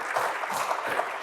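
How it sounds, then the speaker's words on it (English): A brief burst of audience clapping at a panel event honouring scientific leaders, a dense, even patter of many hands heard from within the room. "I would just love to give them a round of applause for their achievements as leaders"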